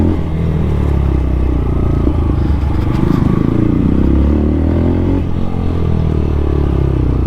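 A motorcycle engine drones loudly and steadily during a Sunday ride, with gear trouble and road rumble, the low harmonic hum continuous throughout with faint clatter mixed in.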